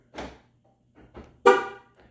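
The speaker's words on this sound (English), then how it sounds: "it chirps the horn just a little bit to confirm lock." A Ford Bronco horn gives short chirps to confirm a remote lock, a few brief toots in close succession, with the last one the loudest, heard up close with no talk.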